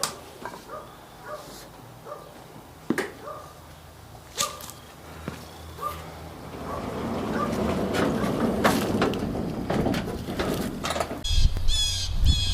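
A pet bird gives harsh squawks, sharp and irregular, repeated several times near the listener. Later a rising rumble of background noise builds beneath the calls.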